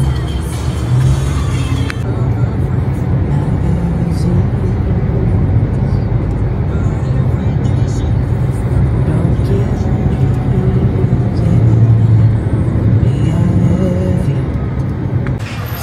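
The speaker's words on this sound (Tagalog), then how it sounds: "Pero ang tulay may traffic." Road traffic crosses a bridge in Maeklong, Thailand as a continuous, close engine rumble of passing cars and buses that swells and eases for the whole stretch. Voices come and go faintly under it.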